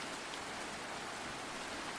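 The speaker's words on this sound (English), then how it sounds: "Today, it's raining very hard, and the garden is all muddy." Heavy rain falling steadily in a muddy garden, a dense uniform hiss with no break, fairly quiet overall and no voices.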